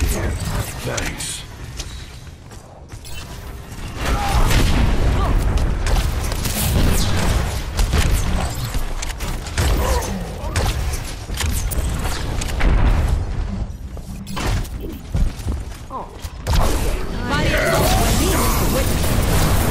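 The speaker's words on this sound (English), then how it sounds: "Fire! Explosion!" Explosions and gunfire from the Overwatch video game on the Oasis map fill a dense, continuous stretch of game combat, with repeated booming bursts layered under steady noise.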